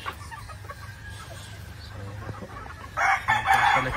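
A Kelso gamefowl rooster on a game farm crows loudly near the end, after softer clucking and low background noise; other birds are faint in the distance.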